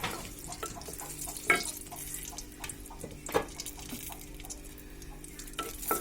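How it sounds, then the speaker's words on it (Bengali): Dried red chilies stirred in mustard oil in a pan, a soft ongoing sizzle broken by a few sharp scrapes and knocks of a spoon against the metal. "সেটা দিয়ে দিলাম, হালকা একটু নেড়ে দেব।"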